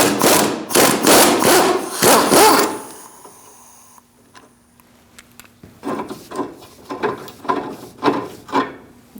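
A 19mm socket wrench ratchets on a rear control arm bolt of a 2002-2006 Toyota Camry, rapid rhythmic clicking in close bursts separated by a short pause with light metallic clinks, no voices.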